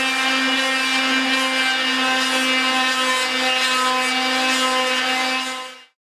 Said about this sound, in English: I sand it again, I sand it more.